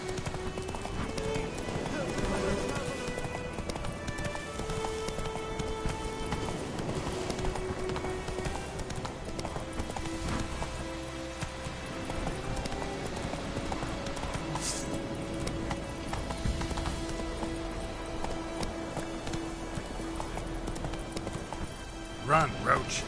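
Hooves of Roach, the horse in The Witcher 3 on PS5, clop in a fast galloping rhythm, steady and fairly close, under a man's spoken commands and background game music.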